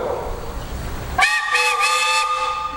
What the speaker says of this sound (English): Hey, Steve, you got a whistle.